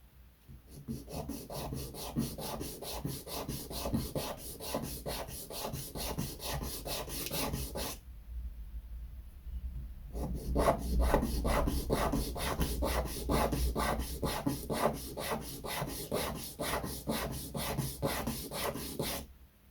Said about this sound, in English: I presume this one wants sanding as well.